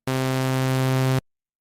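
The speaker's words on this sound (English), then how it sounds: "Incorrect answer." An incorrect-answer buzzer from the World of Warcraft video game sounds once, a loud steady harsh electronic tone lasting about a second before cutting off abruptly into silence.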